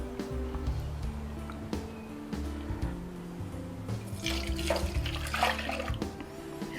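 A litre of milk pours into a two-litre pot in a continuous, close liquid stream that splashes and gurgles, growing busier toward the end, with no talking over it.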